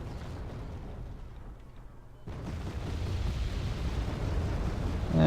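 LARS 2 rocket artillery fires 110mm rockets in a strategy video game. After a quiet stretch, a sudden rumbling boom builds into a sustained, growing roar of launch and blasts.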